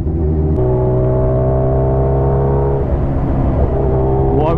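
A Kawasaki H2R and a Hayabusa motorcycle rev on a drag track to warm their tyres before a race, giving a loud, sustained engine drone that shifts pitch partway through, with no talk.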